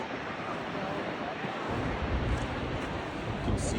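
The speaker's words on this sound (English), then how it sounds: "Feel the wind blowing." Wind gusting at Yellowstone, a broad rushing buffet across the microphone that swells stronger partway through and stays steady and close, with no clear talk over it.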